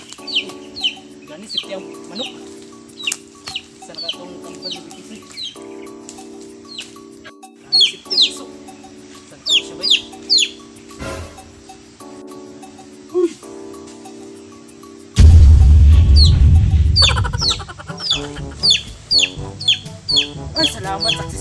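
Chickens cluck repeatedly in short, sharp calls over steady background music, with a louder, denser stretch of clucking and noise near the end.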